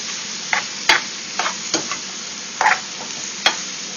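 Food being stirred in a frying pan for a healthy chicken dinner, a spicy seasoning and ginger just added: soft scraping strokes and taps against the pan at an irregular rhythm over a low background hiss, close and fairly quiet, no talking.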